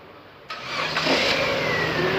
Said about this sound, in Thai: สตาร์ทเครื่องครับ